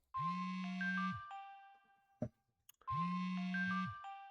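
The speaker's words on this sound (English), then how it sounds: "The phone call." Two bursts of a phone ringtone, each a loud electronic warble about a second long with sustained tones, separated by a short quiet gap with a faint clack.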